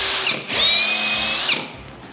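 A YATO brushless cordless screwdriver whirs at high speed in two bursts, a short one then a longer sustained run, with a steady whine and a brief pause between.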